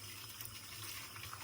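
Tap water running steadily while raw chicken is washed in a kitchen, a faint, even stream with small splashes.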